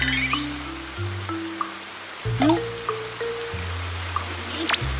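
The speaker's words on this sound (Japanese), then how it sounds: "雨やべえ" Rain falling in an anime scene, a constant soft patter of drops under layered music-like tones, with scattered light splashes and a few brief effect sounds.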